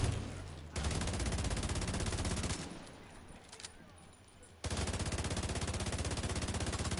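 Rapid automatic gunfire in The Division 2 rattles in long, dense bursts, loud and close, with a short quieter gap in the middle; a voice is faintly present beneath.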